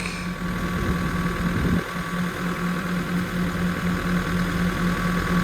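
A Doosan DX80 digger's heavy diesel engine, which has an engine problem, idles steadily nearby, a low constant rumble with a faint hum, with a brief clunk early on.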